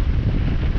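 Strong 32-knot wind roars across the microphone aboard a sailboat under way at 7 knots off Greece, a dense continuous buffeting rumble with no pause, loud and close throughout.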